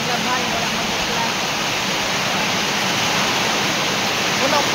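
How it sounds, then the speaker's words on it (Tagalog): Heavy rain pours down in a dense, unbroken hiss that stays loud and steady throughout. "O karon nag-ulan na po."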